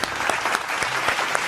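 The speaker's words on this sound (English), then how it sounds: "Now clap your hands, come on." Children clap their hands during a kindergarten rhyme lesson, a dense patter of claps over 1.5 seconds with a few stronger accents, close by, with faint background murmur.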